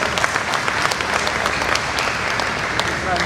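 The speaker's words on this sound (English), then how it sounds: "Let's give a big round of applause to Honorable Datuk and also Datin." Crowd applause at a ceremony for Nautica Gambir and Langsat honouring a Datuk and Datin, continuous clapping at steady volume with occasional sharper individual claps standing out, and a voice murmuring faintly underneath.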